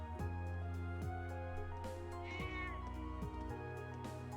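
A video game cat gives several drawn-out meows, one after another in an even run, over a steady tonal music bed at low volume.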